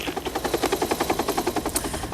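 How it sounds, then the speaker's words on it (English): A police helicopter flies overhead, its rotor blades beating in a fast, steady rhythmic chop that stays loud and close, with no talking. "The helicopter, no question, it's a valuable crime-fighting tool"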